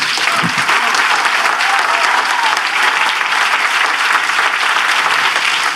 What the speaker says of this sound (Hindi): आइए हम अपने माँ बाप के लिए ताली बजाएं।